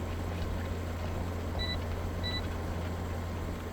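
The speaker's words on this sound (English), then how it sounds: "Alright, so it's 2 audible beeps" Two short, faint electronic GPS beeps about a second apart, signalling within 20 meters in Farming Simulator 2015 with a GPS mod, over a steady low engine-like drone.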